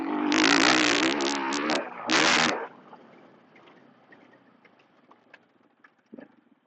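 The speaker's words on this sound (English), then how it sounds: "bike with just such low revving action." A 2026 Husqvarna FE501 dirt bike engine revs hard and close for a couple of seconds in rising bursts, then drops to a faint, distant idle with light clicks.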